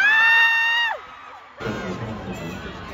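Crowd of fans at a Lee Min Ho fan meet screaming loudly, with sustained high-pitched shrieks that drop off, then a renewed wave of cheering and yelling from a large indoor audience.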